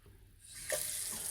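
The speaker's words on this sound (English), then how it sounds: "so just turn the hot tap on first." Hot tap in an ensuite basin opened and running, water rising from a quiet start into a steady hiss and splash at close range.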